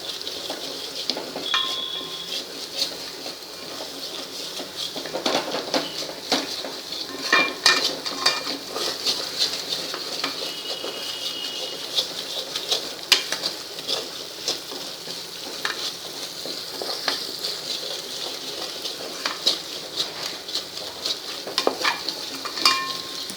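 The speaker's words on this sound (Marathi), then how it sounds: "म्हणून तो छान असा भाजून घ्यायचा आहे कलर बदलेपर्यंत" Flour roasting in a pan for white sauce, stirred with a spoon scraping and clinking against the metal over a soft steady sizzle, close and continuous with irregular taps, no talking.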